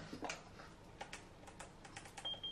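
Close, quiet clicks of an alarm system keypad's buttons pressed one after another, with a few short electronic beeps in between and at the end.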